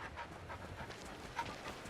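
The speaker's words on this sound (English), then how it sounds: "Look at the dog go." A dog pants in the video game Two Falls: Nishu Takuatshina, quick rhythmic breaths running steadily throughout at a moderate, fairly close level.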